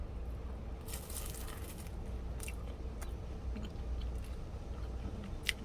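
Several quiet, crisp crunches come from biting into a flaky, many-layered baked cream cheese pie, with short bursts of crackling pastry separated by pauses.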